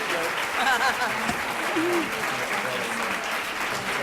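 Steady applause from an audience at a business leaders panel event, a dense even wash of clapping throughout with faint voices briefly audible over it.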